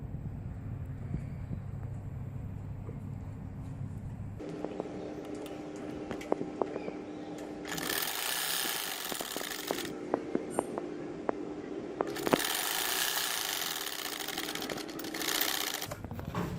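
Sewing machine stitching a baby frock made from leftover fabric, running in two sustained bursts with a whirring drone and small clicks between them, close up and with no talk.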